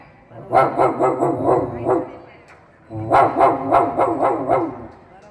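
Two runs of rapid, repeated barking from a dog nearby, loud and insistent, separated by a brief pause.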